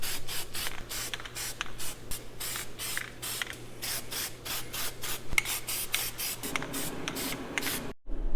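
Rust reformer base coat hisses from a spray can onto Datsun 510 parts in a string of short, regular bursts, each a sharp airy spurt, close up with no talking.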